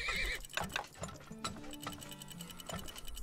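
Horses in the oil tycoon game Turmoil: a short whinny up front, then rhythmic clip-clop hoofbeats and clattering cart sounds, close and moderately quiet, with no talking.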